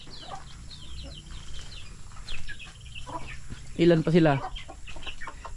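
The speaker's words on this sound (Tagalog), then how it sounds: "Ayun na yung mga manok mga kabayan no." Chickens, including a hen and a rooster, clucking softly in a farmyard, with a louder burst of squawks near the end while someone talks nearby.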